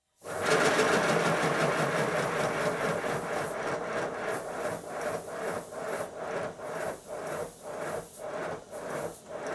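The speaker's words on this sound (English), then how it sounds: "Time to run the engine and make sure the drain cocks are working." A model steam locomotive engine runs with its drain cocks open, giving a steady close hissing chuff that settles into a clear regular beat of rhythmic exhaust pulses.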